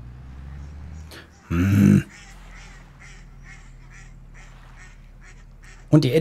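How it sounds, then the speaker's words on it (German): Ducks quack in a Farming Simulator 22 game in a rapid, honking burst, then again briefly at the end, with faint murmuring voices and soft background sounds in between. "Und die Enten sind zu hören."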